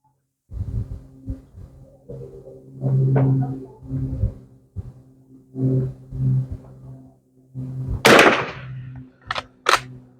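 A WZ48 Polish .22 training rifle fires several sharp, close shots spaced irregularly, with clicks and handling noises of the action between them.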